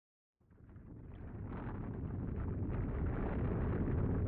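A bomb explodes inside the Nozomi Technologies building in a visual novel game, bursting out of silence into a deep, heavy rumble that swells and holds loud and steady with a low roar.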